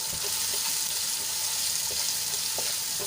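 Finely chopped onion sautés in oil in a pan, making a steady, fairly loud hiss with light crackle and occasional soft stirring taps. No voices are present.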